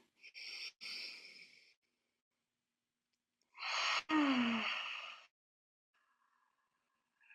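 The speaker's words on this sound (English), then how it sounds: "I'm just going to take 3 breaths" Two deep breaths taken during a meditation session, close and fairly soft: a long airy inhale or exhale, a pause, then a second fuller breath with a slight throaty tone, followed by quiet.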